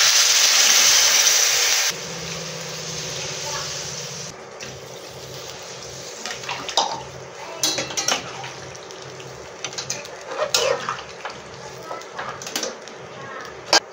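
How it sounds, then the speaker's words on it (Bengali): Water poured into a pan of spiced vegetables being cooked down for Bengali rui fish curry, a loud rushing pour for about two seconds, then quieter bubbling, utensil clinks and scraping while a person talks. "এবার আমি জল দিয়ে দেবো।"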